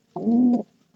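A pigeon coos once, close and clear, a low rolling call lasting about half a second, with the start of a second coo at the very end.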